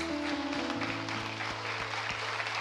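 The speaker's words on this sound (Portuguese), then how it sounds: "Você quer aplaudir o nome do Senhor?" Church congregation applauding during a youth worship service, a steady wash of clapping under sustained organ or keyboard tones, with no speech.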